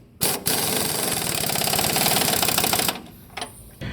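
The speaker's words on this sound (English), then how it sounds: "we're just going to put our impact gun on, hold it in place, and just going to give it a little bit of" An impact gun tightens a strut nut on a 2004–2008 Ford F150, a loud and close rapid hammering rattle that starts with a short burst, then runs steadily for about two and a half seconds before stopping, followed by a brief follow-up blip.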